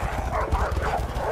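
A dog in the video game A Way Out barks and yips in short bursts over a dense, loud background of game noise, close and continuous.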